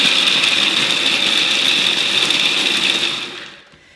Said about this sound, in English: We're going to chop our dates in our little mixer here